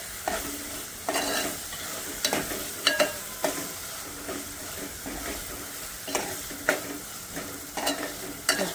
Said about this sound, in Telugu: మసాలా కొంచెం ఫ్రై చేసుకోవాలి.